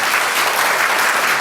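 An audience at a testimony concert claps together in dense, loud, sustained applause with no break.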